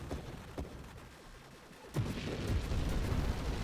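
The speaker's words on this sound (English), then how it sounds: "Just keep shooting. Bullets forever." Ship guns in the space shooter Nova Drift with a spread-shot build, firing a rapid stream of soft popping shots that grows denser and louder halfway through, with no one talking.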